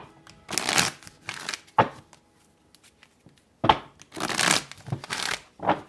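Tarot cards are shuffled and drawn in several quick riffling bursts, close and crisp, with short quiet pauses between them.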